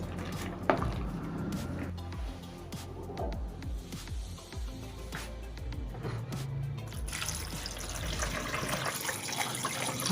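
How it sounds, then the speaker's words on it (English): Cool tap water pours over strained pasta in a colander, making a steady splashing trickle with irregular drips. The flow swells into a fuller, brighter gush near the end. "I'm pouring some cool water on it to stop it from cooking further and also enable it to cool faster."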